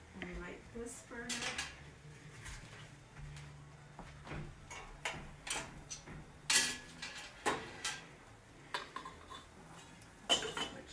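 Metal pot lids clank and rattle on a stove while natural egg dyes are made, a series of sharp near knocks and scrapes spread over about eleven seconds.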